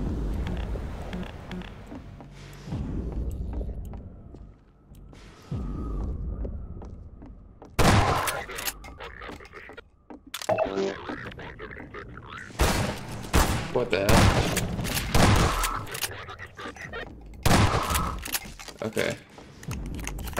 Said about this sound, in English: let's see if I can just blast these guys with the shotgun